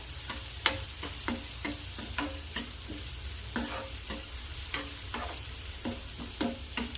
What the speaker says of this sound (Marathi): आता कांदा ॲड करू झटपट होणारी भाजी आणि छान कांद्याला असं परतून घ्यायचं आहे